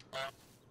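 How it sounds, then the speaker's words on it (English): A single short goose honk from Untitled Goose Game, a brief, loud, nasal call standing alone over quiet background. "Press X to honk."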